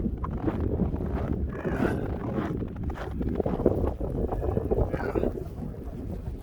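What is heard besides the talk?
strong wind in a blizzard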